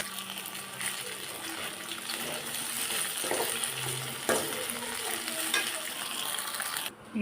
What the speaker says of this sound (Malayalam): കട്ട് ചെയ്ത ഇഡ്ഡലി നമുക്ക് വേറെ ഫ്രൈ ചെയ്തെടുക്കാം.